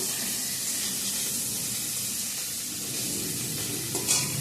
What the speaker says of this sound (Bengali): এই যে পনিরটা ভেজে রাখছি